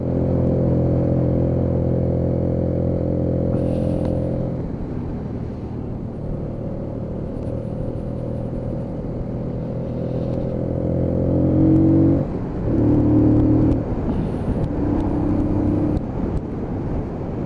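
A Keeway Superlight 125cc motorcycle engine chugs along steadily on a road past houses, a close, even low rumble with a brief drop and a few louder surges near the end.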